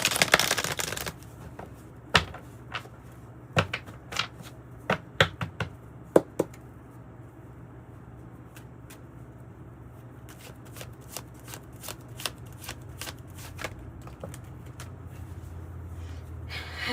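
Deck of tarot cards being shuffled close up, a burst of riffling followed by a series of sharp separate taps and flicks, then more quick clustered card sounds.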